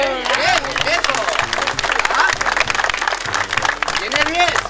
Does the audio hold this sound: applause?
yes